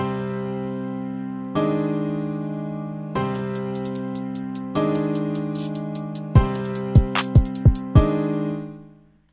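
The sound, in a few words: trap drum beat playing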